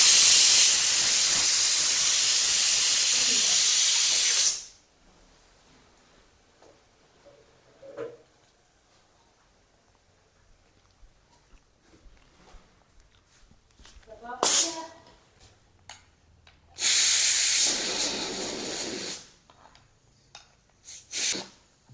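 A pressure cooker boiling amla releases its pressure in a loud, steady hiss that cuts off abruptly, then quiet with small clicks and two more shorter bursts of hissing steam later on.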